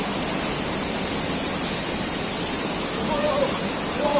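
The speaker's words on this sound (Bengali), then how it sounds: "বিশাল বড় ফলস এটা।" A large waterfall beside a mountain road near Pelling in West Sikkim gives a loud, steady, close roar of rushing water that fills the whole moment without pause.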